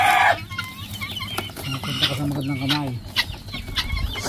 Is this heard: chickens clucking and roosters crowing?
yes